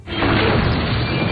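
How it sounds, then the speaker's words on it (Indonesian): A deep, loud boom erupts and rumbles on for over a second, a heavy explosion with a muffled, dull tail. "terjadi sebuah ledakan yang membuat Adrian terbakar"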